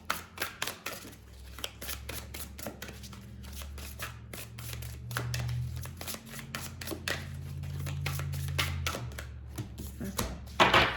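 Tarot cards being shuffled in repeated quick riffles and clatters, close up, with a low steady hum underneath and no talking.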